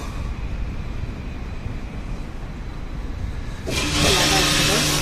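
A self-service car wash brush program starts up at a rental car cleaning bay: a steady low machine rumble gives way to a sudden loud, broad rush of spraying water and whirring equipment near the end.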